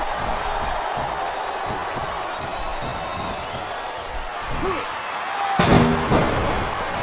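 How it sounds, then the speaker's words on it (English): In a wrestling video game, a roaring arena crowd fills the background while commentators talk, and a single heavy body slam hits the mat near the end, followed by a swell of cheering. "And here he goes with the world's strongest slam."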